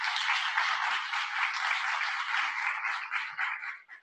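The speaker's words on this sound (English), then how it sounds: "would you please applaud?" Applause at an academic opening ceremony, a thin, mid-pitched patter of clapping that sounds slightly distant and muffled, staying steady before thinning out into scattered claps near the end.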